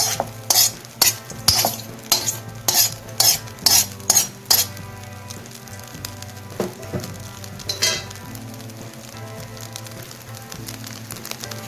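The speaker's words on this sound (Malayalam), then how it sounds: "ഇനി ഇതൊന്ന് ഇളക്കി യോജിപ്പിക്കാം" Spiced rice is stirred and mixed in a pan over low heat: a quick run of loud, close spoon scrapes and knocks, then quieter stirring over a faint sizzle.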